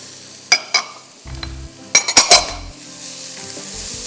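Boiled peas tipped into a pan of turmeric-coloured fish preparation, sharp clinks of a spoon against metal followed by a burst of sizzling and stirring, then a low steady crackle.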